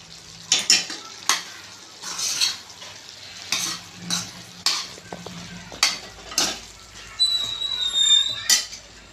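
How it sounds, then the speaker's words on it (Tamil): Crushed garlic sizzles in hot oil for a Chettinad pumpkin tamarind curry, with repeated close stirring strokes of a spoon against the pan and a steady frying hiss underneath; no talk. "பூண்டு நச்சு போட்டுக்குவோம்"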